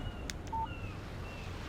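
Short electronic chime of a text message alert on a phone in Alan Wake Remastered, a brief tonal beep over a low background hum.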